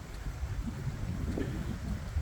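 Strong wind buffets the microphone on a steep mountain road near Mount Diwata in Davao, a steady, rough roar with gusty swells and no voices over it.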